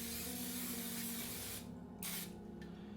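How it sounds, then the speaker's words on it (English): A continuous hissing spray of cooking spray onto a griddle, held for over a second, then two shorter bursts with brief pauses between them. "spray it with some cooking spray or put some butter on there"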